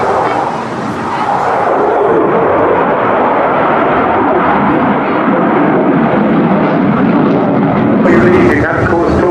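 A Eurofighter Typhoon jet flies low and fast at an airshow, producing a loud, sustained roar that swells and shifts as it passes, with a voice faintly audible beneath.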